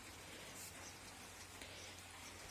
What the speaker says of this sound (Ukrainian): в нас так припарувало, припарувало і якийсь дощик починає